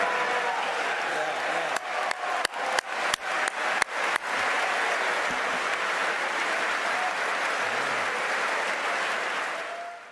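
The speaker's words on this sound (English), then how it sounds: "That is an unusual amount of applause to get for that joke." An audience at a coach's speech breaks into sustained applause after a joke. Some sharp, distinct claps stand out early on, then the dense clapping continues evenly and fades slightly at the end.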